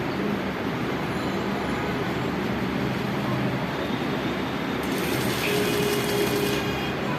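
Sewing machine stitching a blouse seam for tacking, running steadily and close throughout, with a faint rattling texture and a brief higher-pitched shift near the end.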